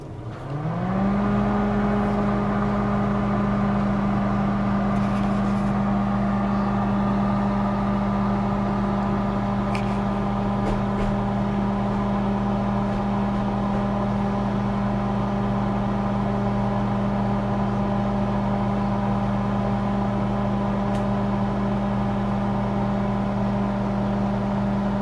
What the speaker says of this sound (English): we are going to close the microwave. And we're going to activate this for 2 minutes as the instructions state.